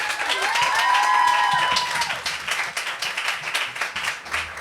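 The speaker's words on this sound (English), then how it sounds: "Please, everybody, big round of applause for Maryam Mir." Audience applause at a poetry and prose reading event, loud dense clapping from a seated crowd that swells, then gradually thins into scattered claps over several seconds.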